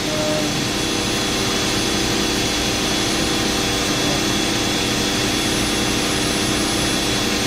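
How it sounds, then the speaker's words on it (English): The spindle of a Mikron Bostomatic BD32-2G vertical machining center runs up to speed with a loud, steady broadband whir and hiss that holds constant throughout, with no talking. "Ramp up the spindle."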